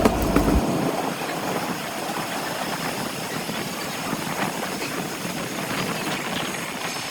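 Continuous dense roar inside a 2AC coach of the Howrah-Balurghat Express as the train runs, a loud, steady broadband rumble throughout with no talking.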